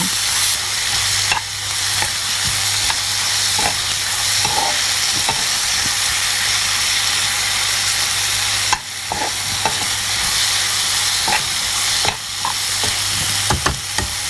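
Tomatoes sautéing in a hot pan for Chettinad chicken gravy make a constant sizzle, broken by repeated scraping stirs and spoon knocks against the pan, close and fairly loud, with no voices.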